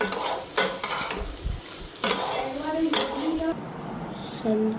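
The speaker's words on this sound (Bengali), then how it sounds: "এদিকে ভাজাও হয়ে গেছে।" Food being stirred and fried in a pan in a home kitchen, with steady sizzling broken by repeated metallic scrapes and clinks of a utensil against the pan, close and fairly loud.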